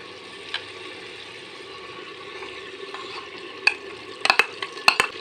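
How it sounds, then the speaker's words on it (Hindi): Spiced yogurt is added to frying masala for an achari dal chana handi and stirred in, giving a soft, low sizzle with a few sharp spoon clinks near the end. "दही जब ही आप डालें इसको फ़ौरन मिक्स करें ताकि दही न पटे"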